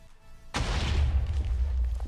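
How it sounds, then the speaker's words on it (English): A deep video-game explosion in Building Blocks bursts in with a sudden boom and then sustains a loud, rumbling roar with crackling debris. "And the explosion works."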